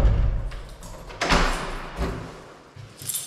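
A door is opened close by with a sharp bump and rattle near the middle, amid handling knocks and a softer thud toward the end.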